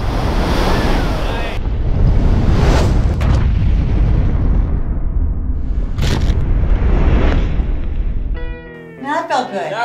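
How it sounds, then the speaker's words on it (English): A silo explosion fireball roars as a loud, sustained rushing blast with a sharp crack midway, wind-like noise buffeting the microphone, then it drops off and voices break in at the end. "it looks like containing the fireball actually destroyed the silo."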